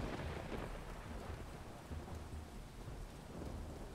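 Heavy rain and rolling thunder fill a stormy night in the building-destruction game Teardown, a steady dense roar of downpour with low rumbles swelling underneath, loud and close throughout with no voices.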